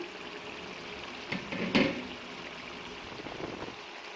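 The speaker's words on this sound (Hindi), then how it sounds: "अब इसको 10 मिनट के लिए मीडियम फ्लेम पे दम दे के पकाना है।" Chicken curry with potatoes and peas simmers over a medium flame with a soft, steady bubbling hiss, fairly quiet and close, with one brief louder burble in the middle.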